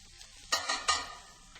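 Mushrooms sautéing with garlic and minced shallots, a faint background sizzle broken by two louder scraping, clattering stirs of a utensil in the pan, with no talking.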